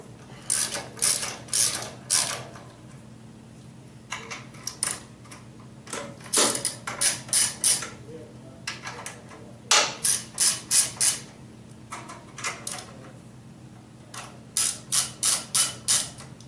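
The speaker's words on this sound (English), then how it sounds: "take your 10 millimeter wrench, and remove the cage" A 10 millimeter wrench ratchets in quick bursts of sharp clicks while removing the engine cage from a Kawasaki FH500V small engine, the bursts separated by short pauses, close and fairly loud with no talk.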